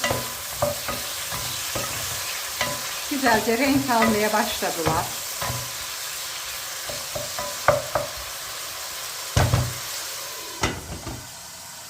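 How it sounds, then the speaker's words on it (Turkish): Chicken pieces sizzle and fry in a pan while a utensil stirs and scrapes in bursts; a voice speaks briefly in Turkish over the cooking sounds. "Tavuklarımızı da bir karıştıralım."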